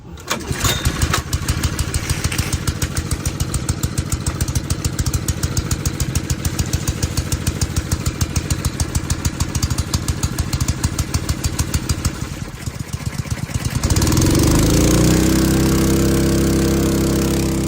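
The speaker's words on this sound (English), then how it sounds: "this is gonna start right up for me because I've already primed it" A primed gas-powered water pump engine is pull-started and roars into a steady, loud, close running drone, then shifts to a smoother, fuller tone as it settles in and starts pumping water.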